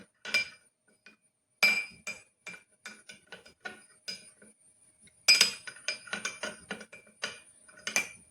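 A spoon stirs a small amount of ingredients in a glass, producing bright clinks and taps in two bursts separated by a pause, close and clear with no talking.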